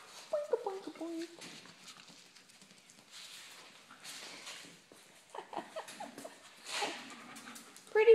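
Puppies whimper and squeak in short, high, uneven bursts at close range, with soft rustling and quieter gaps between the cries.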